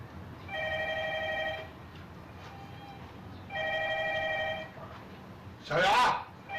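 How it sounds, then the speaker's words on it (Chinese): An indoor telephone rings twice in evenly spaced electronic bursts with a pause between them, followed by a brief spoken call. "接电话"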